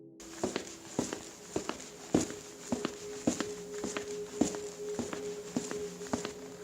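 Footsteps plod around a tent at night on a mountain, a slow, regular series of soft, close thuds over a faint steady hum, with no talking.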